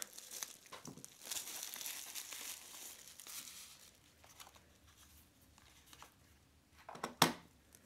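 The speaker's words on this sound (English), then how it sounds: "let's go ahead and pop open this bubble wrap here." Bubble wrap from a mini wireless keyboard package crinkles and rustles close up for several seconds, with a sharp loud pop near the end.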